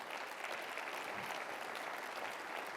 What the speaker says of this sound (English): Give my colleagues a round of applause for that.